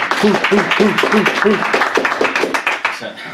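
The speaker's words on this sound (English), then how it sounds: "Round of applause, please, for Sean." Audience applause at a business forum greeting a speaker, brisk clapping close by with a voice talking over the start, fading out after about three seconds.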